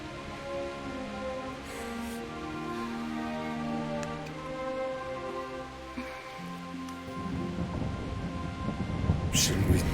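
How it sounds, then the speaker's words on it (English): A video game thunderstorm with rain hisses softly in the background. Low rumbles of thunder build and swell toward the end, while people talk over the storm throughout. "Not afraid of thunderstorms, are you?"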